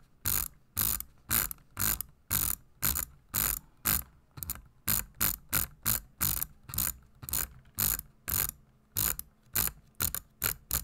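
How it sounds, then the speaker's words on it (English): A computer mouse is drag clicked for Minecraft, producing rapid, close, crisp clicking in dense rattling bursts that repeat steadily with short pauses between them. "So this is drag clicking."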